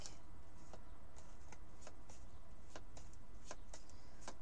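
Tarot cards from an Arthurian Hallowquest deck being pulled out one by one, giving soft, scattered papery flicks and slides at irregular intervals over a faint, hissy background.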